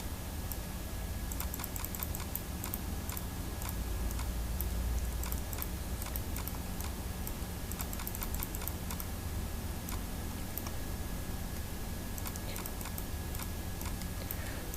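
Quick mouse clicks and taps at a computer while making a selection in Photoshop, scattered light clicks in irregular bursts over a steady background hum, close and fairly quiet, with no talking.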